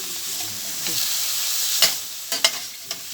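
Bell peppers sautéing in a pan with a constant close sizzle, then a few quick utensil scrapes and clacks toward the end, no talking.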